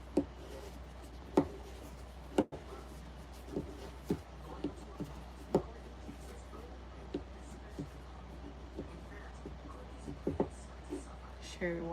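Fingers type hard on a computer keyboard: irregular, sharp clicks and clacks, close by, over a low steady hum, with one louder thump partway through.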